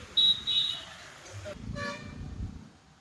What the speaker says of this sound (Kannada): ಹಾರ್ನ್ ಮಾಡ್ತಾ ಇದೆ, ಹಾರ್ನ್ ಮಾಡ್ತಾ ಇದೆ